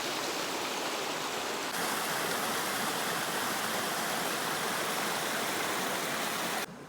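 A jungle stream rushes steadily in a constant, dense wash of water noise, close and loud throughout with no voices.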